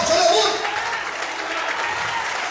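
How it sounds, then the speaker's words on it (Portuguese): A church congregation claps steadily and loudly throughout, a dense wash of applause with voices mixed in. "Quantos podem aplaudir e exaltar o Senhor bem forte?"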